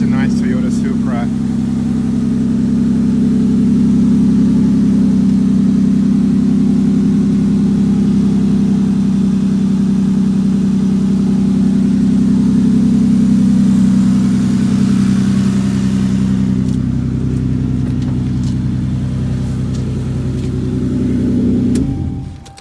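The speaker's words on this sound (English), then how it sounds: "If I don't stop the engine, you guys are not gonna be able to hear my voice in this video." A loud, modified Toyota Supra engine idles close by with a deep, heavy rumble that stays steady for about twenty seconds before cutting off abruptly at the end.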